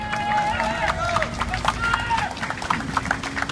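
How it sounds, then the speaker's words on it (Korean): Crowd at a street election rally outside Taepyeong department store near Isu station, clapping and cheering under a loud amplified voice. "여러분 박수 한번 보내주십시오."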